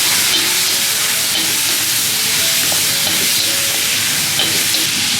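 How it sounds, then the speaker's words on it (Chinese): Fish bones stir-fry in a wok with scallion and ginger, giving a loud, steady sizzle with faint scraping of the stirring utensil and no speech. "下面我们把鱼骨也放进去炒一下。"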